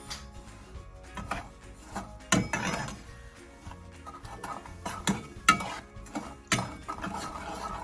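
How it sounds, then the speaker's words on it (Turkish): Sugar and water in a pot on the stove being stirred with a ladle, which scrapes and knocks against the metal in uneven strokes, close and moderately loud with no talking. "İlk etapta kepçe yardımıyla karıştırıyorum"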